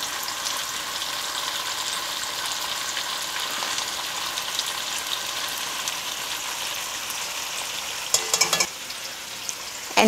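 Braised pork with oyster sauce sizzles steadily as it is stirred in a non-stick pan, a constant close frying hiss with a few scraping clatters near the end.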